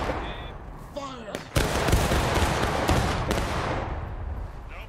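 Musket volley fire in the Civil War game War of Rights: a sharp massed crack followed by a sustained ragged crackle of rifle shots, loud and close, with a voice shouting just before.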